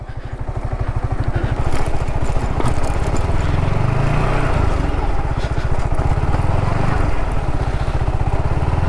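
A Yamaha R15M motorcycle rolls downhill on a steep mountain road near Mussoorie with its brakes held continuously, producing a loud, steady engine drone with rattling and clatter throughout and no speech.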